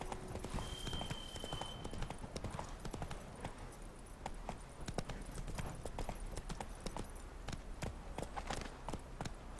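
Horse hooves gallop across the ground in The Witcher 3, giving a quick, steady clip-clop that continues throughout. A faint tone plays briefly near the start.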